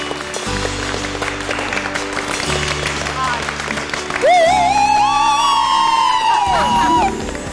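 Studio audience on a Romanian TV talk show breaking into applause and cheers, a steady wash of clapping and whoops under loud music with a rising synth tone near the end, talk faintly beneath.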